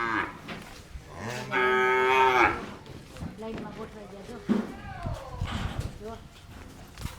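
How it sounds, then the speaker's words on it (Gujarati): Cattle, including cows and buffaloes, moo loudly at an animal shelter caring for injured animals, with one long sustained call followed by shorter lowing calls, near and clear. "આ મોટા પશુઓ જે ગાય ભેંસ ને બધા થઈને 160 જેવા થાય"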